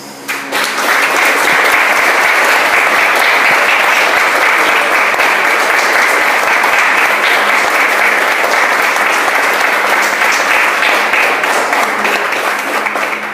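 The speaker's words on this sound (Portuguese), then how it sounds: "Eu quero aplaudir esse Deus." A church congregation bursts into loud, dense applause during a worship service, sustained clapping that rises within the first second and stays strong and even, close and full, until the end.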